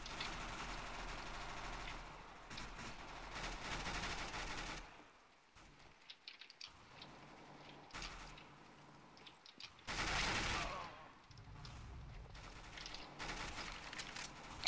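Shotgun fire in the shooter game CS:GO, with repeated loud blasts and dense gunfire in a hectic match, dropping to sparse mechanical clicks midway before another sharp burst near the end.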